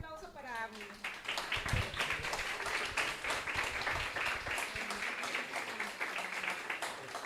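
An audience at a live panel discussion claps, producing a dense, steady patter of applause that runs throughout, with voices talking over it.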